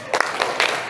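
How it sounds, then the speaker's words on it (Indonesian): A class of students performs a rhythmic spirit clap, tepuk semangat, producing three quick, sharp clap bursts in an even pattern within a single second, close and fairly loud. "Coba Ibu mau dengar tepuk semangat."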